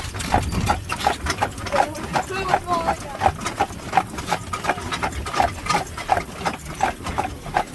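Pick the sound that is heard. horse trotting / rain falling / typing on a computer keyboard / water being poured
horse trotting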